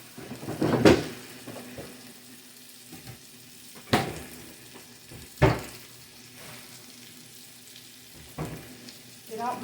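Salmon patties fry in a pan with a soft continuous sizzle, broken by a few sharp clanks and knocks of a utensil against the pan, and no voices.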